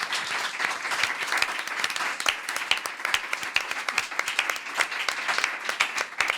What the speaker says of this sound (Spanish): Vamos a despedirlas con otro enorme aplauso